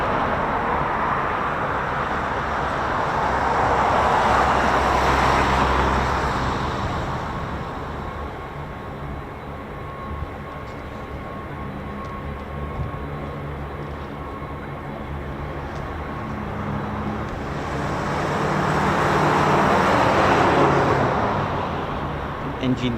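A military MC-130J aircraft at RAF Mildenhall with its engines running, a steady droning roar that swells and fades twice over the stretch, with a faint tonal whine throughout and no clear talk.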